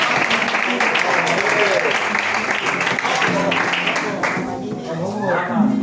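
A church congregation applauds for the Lord during a youth service, with some clapping audible. Voices and singing or talk run loudly over much of the applause.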